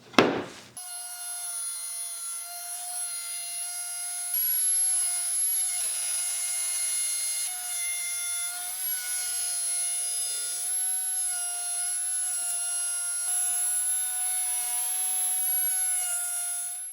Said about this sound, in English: Now we're gonna take a 1/8 inch round over bit.